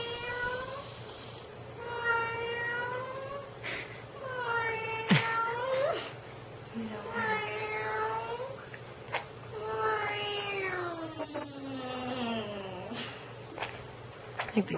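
A cat meows repeatedly, several drawn-out, rising and falling cries spaced a second or two apart, fairly close, over a low background hum.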